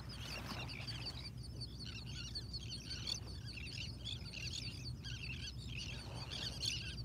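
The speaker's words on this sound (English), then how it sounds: "Oh, those are pelicans." Pelicans call faintly in the distance, a scattered chorus of chirps and squawks over steady low background hum.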